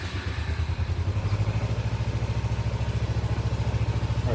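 A Kawasaki Ninja 250 motorcycle engine runs close by at a steady, rhythmic idle with a low pulsing throb and a light mechanical clatter, and no talking.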